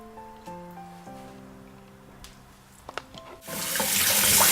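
Egusi seeds are rinsed under a running kitchen tap, water splashing steadily into a sink, with faint clinks of handling partway through before the flow grows louder and fuller toward the end.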